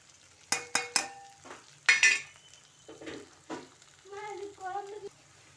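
Potatoes sauté with turmeric and chili powder for a simple potato masala, with quiet sizzling under sharp clinks and scrapes of a spatula stirring the pan in irregular bursts.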